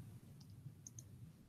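Computer mouse clicks at a desk, a few faint sharp clicks in two quick pairs over quiet background hum.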